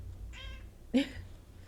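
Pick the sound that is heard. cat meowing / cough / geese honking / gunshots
cat meowing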